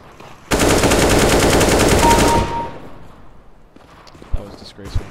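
Gunfire in the video game Counter-Strike: a loud, sustained automatic burst lasts about two seconds, then fades, followed by a few quieter game sounds.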